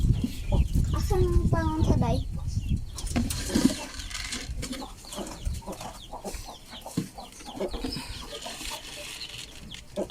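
Chickens cluck and squawk in a small backyard garden, the hens close and fairly loud at first and then thinning out, while people talk intermittently over them.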